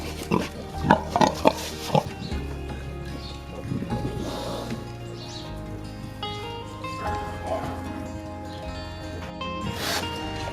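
Newborn piglets huddle near their mother sow in a farrowing pen, giving a few soft grunts and squeals at the start, then low snuffling and rustling continues nearby.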